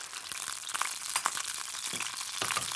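Prawns frying in olive oil in a pan, a steady dense crackle and hiss with small popping spikes running throughout, close and fairly loud, no talking.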